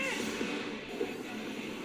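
A cat meows in an Attack on Titan anime episode, a short, fairly quiet cry or two set against a low background hum.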